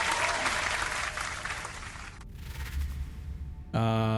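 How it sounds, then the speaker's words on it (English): Loud crowd applause for about two seconds cuts off abruptly, followed by quiet background and a sudden tonal electronic sound. "We'll give a round of applause"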